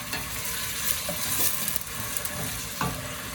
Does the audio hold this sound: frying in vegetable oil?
yes